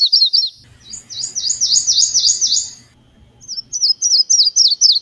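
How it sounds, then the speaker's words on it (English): Common eastern warblers sing clear, high, rapidly repeated trilled phrases in two close bursts separated by a short pause, with a faint low rumble beneath the first burst. "Here are a few common songs of common eastern warblers."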